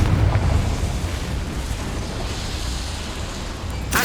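The Confringo fire spell in Hogwarts Legacy on PS5 lets off a loud, rumbling explosive blast that fades into a sustained roar, with a sharp crack at the very end.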